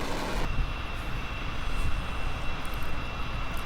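A plane's aircraft engine drones in Kerbal Space Program, a steady loud roar with a sharp change at the start and then a continuous rumble without voices.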